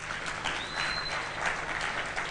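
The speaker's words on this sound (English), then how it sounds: "You have to give him a clap for that." Audience applause at the PMI Kenya Project Management Excellence Awards 2023 ceremony, a steady wash of many hands clapping at moderate distance, sustained evenly for a couple of seconds.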